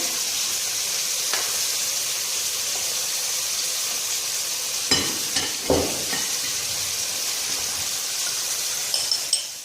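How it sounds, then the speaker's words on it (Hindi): Tomatoes and capsicum frying in a pan for chicken tikka biryani give a loud, constant hiss of sizzling oil, with a few brief clinks and scrapes of a stirring spoon near the middle and end. "इसको अच्छी तरह हमने भूनने के लिए रख दें।"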